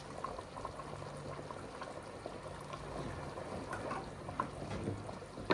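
Blended crayfish poured into a pot of simmering bitter leaf soup, giving a steady low bubbling and gentle liquid churn that stays fairly soft and continuous throughout, with no talking.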